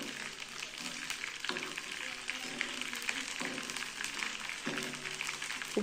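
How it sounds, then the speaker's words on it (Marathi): Nylon sago pearls are dropped a few at a time into hot oil, producing a close, crackling sizzle with repeated bursts as each batch goes in, alone without talk. "आता हे थोडे थोडे लायलोन साबुदाणे आपण टाकू आणि चांगलं तळून घेऊ"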